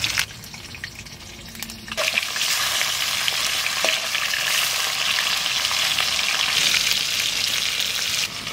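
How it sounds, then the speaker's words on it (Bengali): Fish pieces drop into hot oil in a heated wok, and a quieter crackle abruptly swells into a loud, steady, close sizzle that holds without a break. "কড়াই গরম হয়ে গেছে, তেল দেবো মাছ ভাজার জন্য।"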